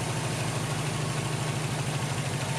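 Freshly installed engine in a Subaru Impreza WRX STi idling, a loud steady low rumble holding an even, unbroken tone throughout the short stretch, with no talking.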